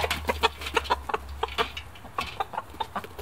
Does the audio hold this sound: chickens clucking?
yes